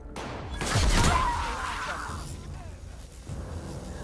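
Gunfire in the video game The Outer Worlds: one sharp shot followed by a rushing, whooshing burst that fades into a low rumble, heard alone without talk.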